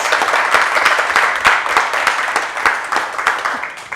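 Studio audience applause for guests on a local Topeka talk show, a loud, steady wash of many hands clapping close by, with individual sharper claps standing out and no talking over it.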